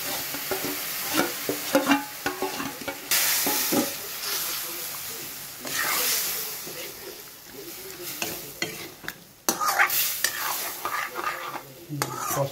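Boiled jackfruit seeds stirred and fried in a pan: a running sizzle with repeated spatula scrapes and knocks against the metal, rising and falling in bursts, close and without speech.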